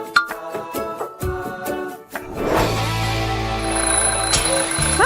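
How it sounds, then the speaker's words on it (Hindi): A morning alarm clock goes off in a home, a repeated ringing tone running through the clip over a steady low hum, with some rustling and movement near the start. "उफ, बेकार का अलार्म क्लॉक"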